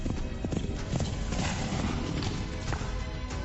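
Horse hooves clip-clop in a Kentucky tourism radio advertisement, a steady walking rhythm of close hoof beats that runs continuously under dense background sound with no break.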